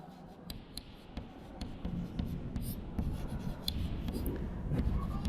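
Pen scratching across paper while a maths problem is worked out, soft continuous rubbing strokes with small scrapes, close by and without speech.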